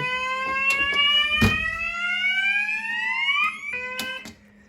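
A 1997 Vigilant FP1600 fire alarm panel sounds its alarm: a loud electronic tone sweeping steadily upward, with sharp clicks, then it drops to a lower pitch and breaks off near the end.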